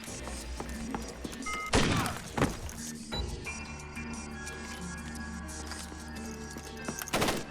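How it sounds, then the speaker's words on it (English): Shotgun attachment in Splinter Cell Chaos Theory firing a 12-gauge triple-aught buckshot shell: two loud broadband blasts close together, then a lighter crack, with a final burst near the end over a steady game hum. "The shotgun attachment fires a 12-gauge shell loaded with triple-aught buck."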